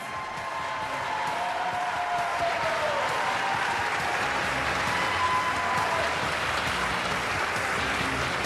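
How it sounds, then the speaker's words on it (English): A crowd applauds the 2017 Dancing with the Stars for Hope contestants, a loud, continuous roar of clapping with crowd noise sustained throughout. "give another round of applause for your 2017 Dancing with the Stars for Hope contestants."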